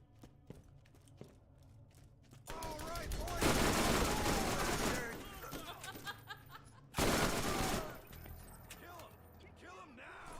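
Rapid bursts of gunfire in a shooting video game on Insanity difficulty, two loud dense volleys of automatic fire separated by quieter clicks and scattered sounds, with voices nearby.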